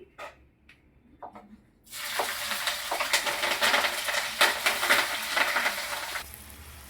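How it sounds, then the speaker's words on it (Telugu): Chopped onions and green chillies hit hot oil in a pan for an egg curry and break into a loud, steady sizzle after a few quiet clinks, then crackle on close up with a stirring rustle. "ముందుగా కట్ చేసి పెట్టుకున్న ఉల్లిపాయ పచ్చిమిర్చి వేసేసుకుంటున్నానండి"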